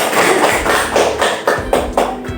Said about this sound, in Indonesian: Aplaus dulu untuk Huria.